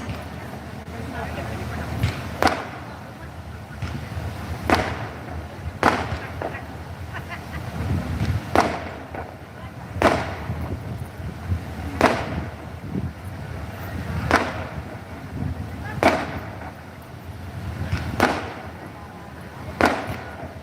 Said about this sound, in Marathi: अरे बस झाले फटाके आता, बस बस बस बस.